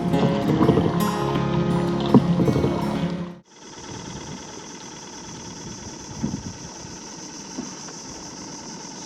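A fishing boat engine on a river estuary runs loudly nearby, then drops abruptly to a steadier, quieter idle hum with a high whine for the rest.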